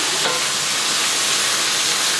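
Onion pieces frying in a pan with turmeric and salt for an egg curry, a steady close sizzle and hiss running unbroken throughout, with no voices.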